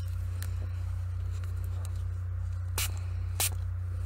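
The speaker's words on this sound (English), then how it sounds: "I probably need to spritz this one again." A water spray bottle spritzes onto makeup paints: two short, sharp hissing bursts near the end, preceded by a few faint spritzes, over a steady low hum.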